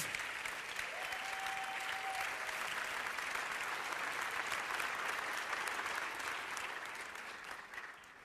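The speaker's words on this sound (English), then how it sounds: "A big round of applause once again for the movie Dahomey with Mati Diop." Film festival audience applauding the movie Dahomey by Mati Diop, a broad, even wash of many hands clapping at a distance, steady throughout and tapering slightly at the end, with a brief whistle-like tone early on.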